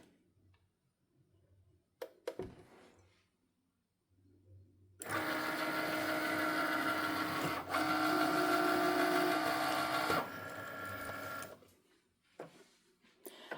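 Cricut cutting machine cutting vinyl text on a mat, a loud whirring, ticking mechanical run for several seconds between quieter stretches with small clicks and movement before and after.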